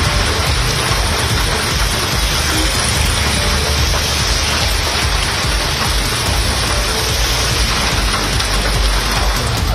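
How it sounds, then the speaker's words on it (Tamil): Heavy rain pours down in Chennai, a dense, loud, unbroken hiss of rainfall that continues evenly throughout with no voices. "சென்னை நகர் மற்றும் புறநகர் பகுதிகளில் நேற்று காலை முதல் இரவு வரை கனமழை கொட்டி தீர்த்தது"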